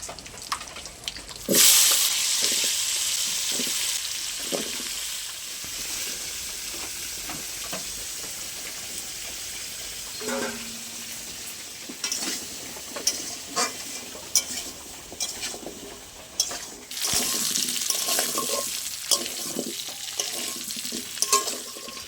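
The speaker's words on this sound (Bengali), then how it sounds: "মাছ ভাজার তেলে আমি ওলগুলো দিয়ে দেবো।" Pieces of elephant foot yam frying in leftover fish-frying oil for a hilsa curry, giving a steady crackling sizzle close by, with stirring and utensil scrapes throughout and no talk.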